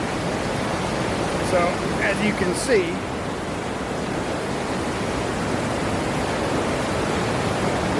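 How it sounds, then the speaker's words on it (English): Floodwater roars through the Big Thompson River in Colorado's mountains during flash flooding, a dense, steady broadband rush close by, with a person speaking briefly over it. "it's still quite a bit of water raging through here right now"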